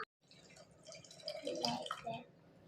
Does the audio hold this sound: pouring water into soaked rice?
yes